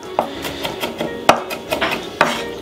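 A knife chops garlic on a cutting board in quick, uneven taps, several sharp knocks close by with soft scraping between them.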